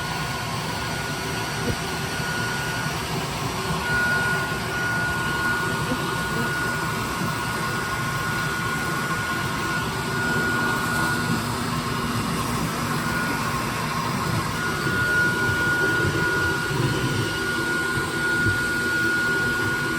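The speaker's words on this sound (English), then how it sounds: "Gotta be patient, just let the vacuum go, do its job." A bee vacuum drones steadily while pulling bees out of a garden shed, a continuous close mechanical whir with a faint high whine, unbroken for the whole stretch.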